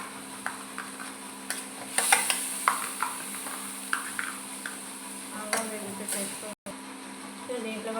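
Ginger garlic paste sizzles and fries in a pan with onions and green chillies, with soft stirring clicks and scrapes scattered over a steady low hiss.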